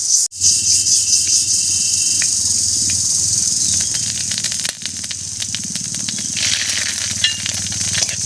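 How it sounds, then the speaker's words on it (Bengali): Whole spices (cinnamon, cardamom, cloves, cumin and mustard seeds) sizzle loudly and steadily in hot frying oil, close up, with crackling pops and a faint knock near the start. "বড়ি ভাজার এই তেলের মধ্যেই দেবো দুই টুকরো দারচিনি একটা এলাচ দুটো লবঙ্গ আর সামান্য একটু গোটা জিরা আর হাফ চামচ মতো গোটা সর্ষে"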